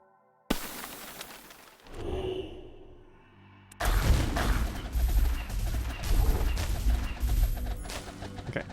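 Barrage attacks fire in the tower defense game Gemcraft: Frostborn Wrath, a sudden loud burst followed by a whooshing swell and then a dense, sustained clatter of rapid explosive impacts.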